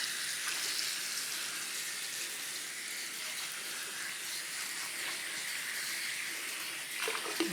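Water runs steadily from a kitchen faucet over cabbage being rinsed, a continuous close hiss and splash, with a brief clatter near the end.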